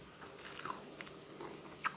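Close, quiet crunching as a crisp chicken and shrimp egg roll is bitten and chewed, a few distinct crackly bites in a soft steady rhythm.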